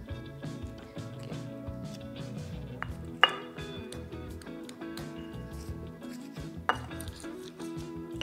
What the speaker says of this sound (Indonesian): Sekarang kita siapkan panci presto. Dia guys panci prestonya.